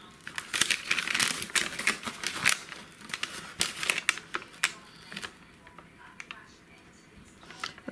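Paper being carefully peeled away during a craft project, producing soft crinkling and small crackles in uneven bursts that thin out toward the end, close and quiet.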